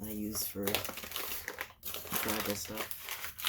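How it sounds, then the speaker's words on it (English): An old paper flyer is crinkled and crumpled close up in rapid, crackling bursts, running under a softly spoken voice. "But I figured just no harm in crinkling it."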